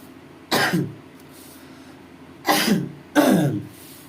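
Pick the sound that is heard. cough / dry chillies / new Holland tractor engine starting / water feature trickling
cough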